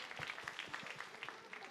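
Applause from an esports tournament audience at a Closers 2016 Super Challenge match, a brief burst of scattered clapping with a voice speaking over it.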